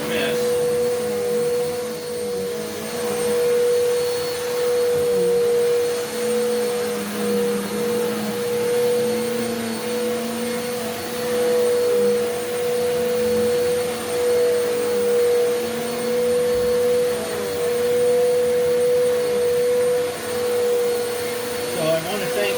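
A Eureka The Boss Capture bagless vacuum cleaner runs steadily for the whole stretch, a loud constant whine with a sustained motor tone and airflow rush, nobody talking over it.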